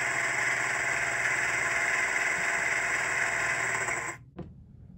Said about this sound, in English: Function 10 is compressor.